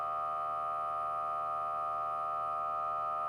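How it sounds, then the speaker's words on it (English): The soundboard of a Devil's Dare pinball machine plays its sound test, a steady, unwavering electronic test tone held at a constant level, alone and without talk. "Oh, that's to do the speech and sound test."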